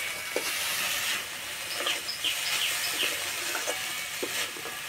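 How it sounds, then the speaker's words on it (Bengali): Sweet flattened rice (chira) pulao is stirred in a frying pan, giving a soft, continuous hiss and sizzle with faint scraping strokes of the spoon at an even pace. "এইভাবে নাড়তে নাড়তে একটা ঝরঝরে ভাব হয়ে যাবে।"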